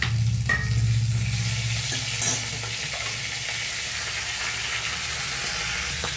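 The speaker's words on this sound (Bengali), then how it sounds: "এইবার দেবো আমি যে মাছ এদিকে ভাজা করছি, এই ভেজে রাখা মাছ দিয়ে দেবো" Fried fish is stirred into a tamarind curry with taro stolons in a pan, giving a continuous close sizzle with scraping stir strokes and a low hum underneath throughout.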